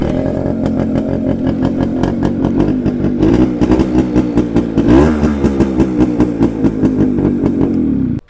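A motorcycle engine runs steadily at idle with a loud, close, rhythmic chugging putter, rising briefly in a rev around the middle before cutting off abruptly at the end, with no talk.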